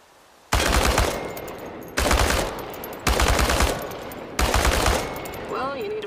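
Automatic weapon fired at cans in ChernobyLite, four loud sustained bursts of rapid shots with short pauses between, close and dominant, and a brief voice-like warble at the end.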